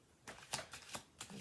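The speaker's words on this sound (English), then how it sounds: "one more shuffle" A quick card shuffle, a few crisp riffling bursts in rapid succession, close and quiet with no talking.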